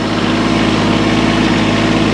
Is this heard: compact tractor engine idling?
yes